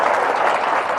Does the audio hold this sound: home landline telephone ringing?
no